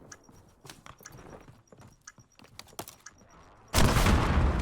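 Gunfire in Warzone punching through a wall: a scatter of sharp, fairly quiet shots and clicks, then a sudden loud, dense burst of firing in the final second.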